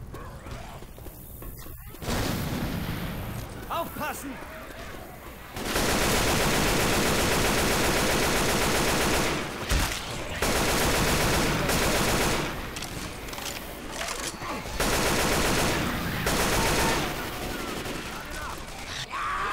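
Rapid gunfire and fusillades in Left 4 Dead 2 during a dark carnival level, long loud bursts of automatic shooting with brief gaps, mixed with game effects and talking players.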